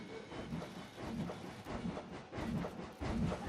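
A train rolls past in a Wild West-themed video game, with a faint, continuous rumble and rhythmic clacking pulses repeating about every half second.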